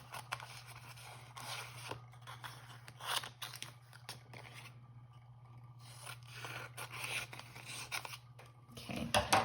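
Scissors snip intermittently through clear envelope material, giving quiet cutting and rustling sounds over a low steady background hum.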